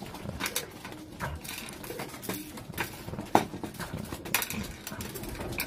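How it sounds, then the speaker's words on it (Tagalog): Pigeons in a loft give soft, low cooing calls amid scattered scratchy shuffling and faint knocks, close by and fairly quiet with no voices. "Ayan mga kalapatid."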